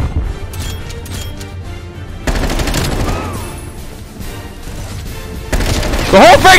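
Rapid bursts of Groza assault rifle fire crackle in Black Ops Cold War gameplay, with repeated automatic volleys and impacts, while players talk and shout over the shooting.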